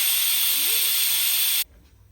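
Dry chili powder hits hot oil in a home North Karnataka kitchen, giving a loud, steady broadband sizzle and hiss that cuts off abruptly near the end, leaving a quiet low hum.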